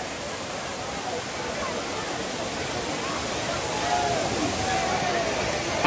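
Courtallam waterfall with crowds gathered around it pours in a steady, unbroken roar of rushing water that stays loud throughout, and voices come through faintly beneath the torrent.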